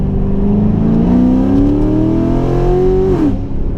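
A tuned car is floored in second gear, its engine note climbing steadily in a loud, close rising rev and then dropping off sharply as the driver shifts. No one talks during the pull.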